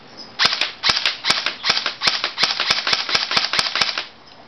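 Scorpion airsoft electric pistol, an automatic electric gun firing a rapid full-auto burst of sharp snapping shots, close and loud, roughly ten evenly spaced cracks over about three and a half seconds, with no talking.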